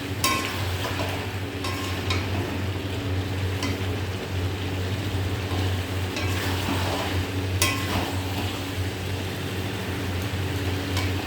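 Chicken kosha sautés in a pan with a steady, close sizzle and occasional scraping stirs over a constant low hum, and there is no talk.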